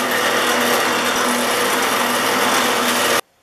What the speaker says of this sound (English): I'm going to take them over on my buffer and clean them up